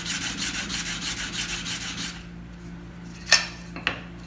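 A card scraper is pushed lightly by the thumbs while being sharpened, giving a pulsing rasping rub for about two seconds, then quiet, then two sharp metallic ticks.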